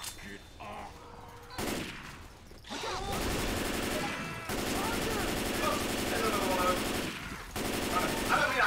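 Bursts of automatic gunfire from Left 4 Dead 2 gameplay, rapid and fairly loud, coming in several stretches with short pauses between them, with players talking over it.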